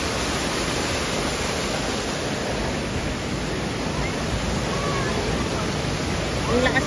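Powerful waterfall with a strong rushing current, a steady broadband roar that stays loud and unbroken throughout, with no pauses or change in intensity.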